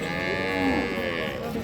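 A dairy cow at a livestock market gives one long, loud, close moo that rises and falls, with a noisy background around it.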